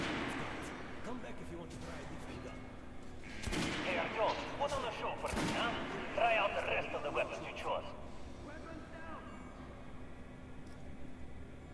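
Gunfire from a weapon aimed at shooting-range dummies in the video game Metro Last Light: several sharp, loud shots punctuate a steady game backdrop, while a voice talks throughout.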